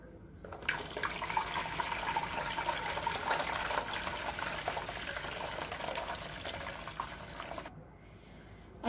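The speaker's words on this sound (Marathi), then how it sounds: "आता आपण पुन्हा हे पाणी गाळून घेणार आहोत." Water strained from pressed wheat pulp for kurdai pours in a continuous soft splashing stream for several seconds, close by and fairly quiet, then stops abruptly.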